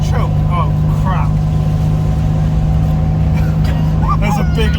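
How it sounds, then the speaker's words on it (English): A big lorry overtakes a 1967 Fiat 500F on the road, a loud steady engine drone and road roar filling the cabin, with a voice speaking over it. "There's a big lorry overtaking. Going on by."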